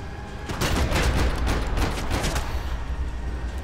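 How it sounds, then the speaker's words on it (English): Rapid gunfire rattles in a Max Payne 3 shootout, a dense fusillade of sharp, loud shots that peaks in the middle and then eases slightly. No one speaks. "Where the hell are these guys shooting me from?"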